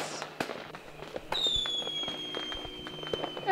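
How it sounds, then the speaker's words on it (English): A cartoon magic spell bursts into red sparkles like fireworks: a series of sharp crackling pops and bangs, then a rising bright shimmering whistle-like sparkle that rings on to the end. "Oh, look at that red sparkle. How fantastic. It's just like fireworks."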